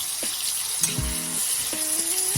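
Sliced onions frying in a pan for a raw egg curry, a soft steady sizzle with a few clinks of a utensil against the pan, close by.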